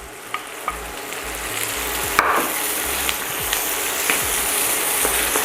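Carrots hit butter and softened onion in a hot pan, giving a steady frying sizzle broken by a few sharp clicks and scrapes of a spoon stirring, with no talk.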